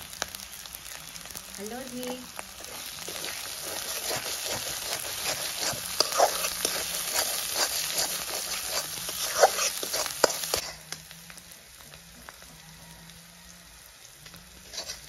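Spices with salt and turmeric sizzle and crackle in hot oil, a steady frying hiss with occasional stirring clatters, quieting near the end; a faint voice is briefly heard early on.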